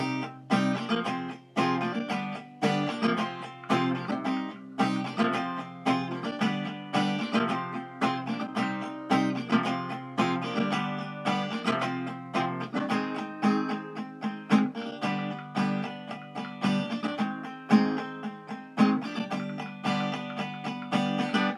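Steady, busy acoustic guitar strumming of a chord progression from a song, rhythmic and continuous at moderate loudness, played close with no talking.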